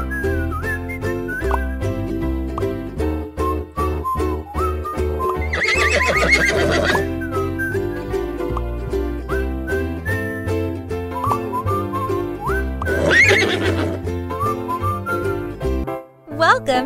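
A horse whinnies twice in the kids' game Princess Horse Club 3 over upbeat, looping game music, with clip-clop hoofbeats and a short whistle mixed in.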